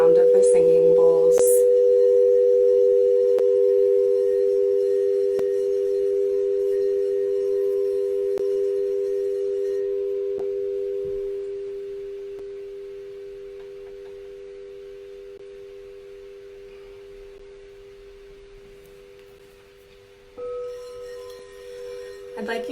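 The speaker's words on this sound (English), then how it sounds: "Come back to the sound of the singing bowls." A singing bowl's long sustained ringing tone during a guided sound meditation, steady and pure at first, then slowly fading over many seconds before a few soft knocks and stirs at the end.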